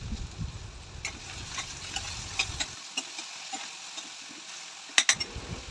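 Chopped onions dropped into hot oil with cumin seeds and asafoetida for a quick tiffin dish, sizzling and hissing loudly at first, then dying down to a quieter fry with occasional sharp clinks of a spoon against the pan.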